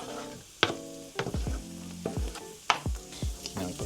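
Salami and soft onions frying in a pan, a loud close sizzle broken by repeated spoon-against-pan clanks and scraping strokes as the mixture is stirred.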